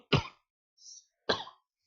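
Two sharp coughs from a man teaching a history class who is slightly unwell, close and loud, separated by a short pause with a faint breath between them.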